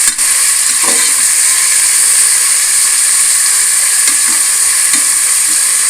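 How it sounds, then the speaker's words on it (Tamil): Tomatoes sauté in a pan for capsicum vegetable biryani, giving a steady, close sizzle and hiss with a few soft stirring scrapes and clinks, and no voices. "சூப்பராக தக்காளி வதவுது."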